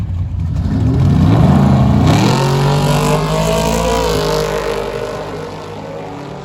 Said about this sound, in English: Folks, as you see the gassers come by